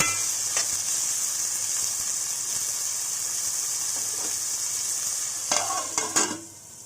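Chopped tomatoes cook in oil under a lid for a taro root (arbi) masala curry, giving a steady, even sizzle throughout with a few brief clinks near the end before it softens.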